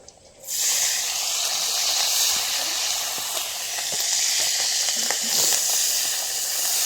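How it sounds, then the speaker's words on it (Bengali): Prawns drop into a hot wok and burst into a loud, steady hissing sizzle that carries on close up, with faint stirring scrapes underneath. "চিংড়ি মাছটা এখন ভেজে নেব"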